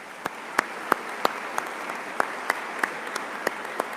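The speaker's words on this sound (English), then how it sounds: "Would you join me, please, in a round of applause for those folks?" Applause at a graduation commencement ceremony: sparse, evenly spaced individual claps ringing out in a reverberant hall, fairly faint and without voices.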